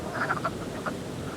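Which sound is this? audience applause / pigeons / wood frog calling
wood frog calling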